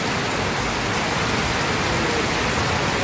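Heavy rain pouring down in a storm, a dense, steady, loud hiss filling the whole stretch with no break and no voices.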